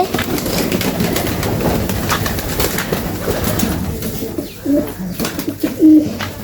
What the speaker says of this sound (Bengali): এখন কবুতরকে খাওয়ান দেওয়ার পরে দেখেন ওরা কি সুন্দর খাবারগুলো খেয়ে দিচ্ছে